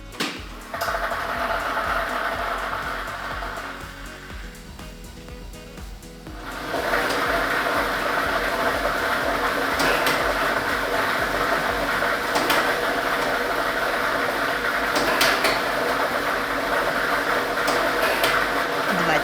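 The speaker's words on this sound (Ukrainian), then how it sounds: "І ми вмикаємо лототрон." A state lottery ball drawing machine for a televised Loto Maksyma draw starts up and runs, giving a loud, steady whirring and rattling of tumbling balls that swells after a brief quieter lull and continues unbroken.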